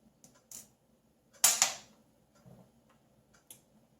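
T8 screws being removed from a Harbor Freight ICON ratchet: sparse small ticks and clicks of a driver bit working the screws, with one louder scraping rattle midway, close and quiet with no talking.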